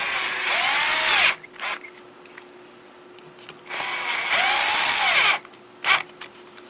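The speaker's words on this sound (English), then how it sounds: "Insert the 2 screws. And tighten that down." Power drill driving two screws during a Phlatprinter 3 machine build, two long whirring bursts each about a second and a half, each followed by a short blip, close and loud with no talking.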